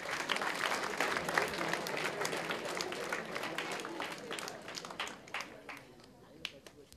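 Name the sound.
audience clapping at a tech event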